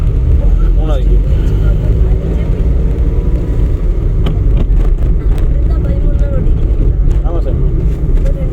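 Car driving in third gear during a driving lesson, a steady engine and road hum heard from inside the cabin, with an instructor and a learner talking over it.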